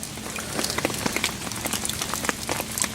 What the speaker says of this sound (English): we're sitting here in the woods waiting for the rain to stop